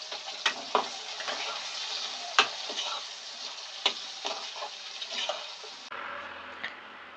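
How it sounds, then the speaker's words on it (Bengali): Eggplant slices coated in salt and turmeric fry in hot oil with a soft, steady sizzle, broken by occasional sharp clicks and taps of a utensil against the pan. "একই তেলে আমরা আগে থেকে নুন হলুদ মাখিয়ে রাখা বেগুনগুলোকেও দিয়ে দেব।"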